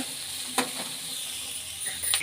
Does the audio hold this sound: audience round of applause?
no